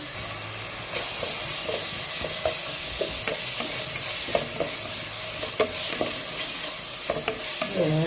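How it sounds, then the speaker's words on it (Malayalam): Onion and ginger sautéed in a pan for a mackerel curry, a loud, continuous sizzle with repeated spoon scrapes and taps against the pan throughout. "ഇതൊക്കെ ഉള്ളി ഇഞ്ചിയും ഇട്ട് ഇതൊന്ന് വഴറ്റട്ടെ"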